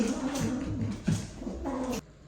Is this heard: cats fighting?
yes